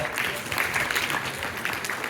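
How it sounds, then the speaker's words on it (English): A panel discussion audience claps in a dense, steady round of applause, fairly close and sustained for the whole short stretch, with faint voices mixed in. "Big round of applause for her."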